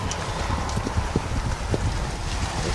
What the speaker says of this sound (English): Horses are running about.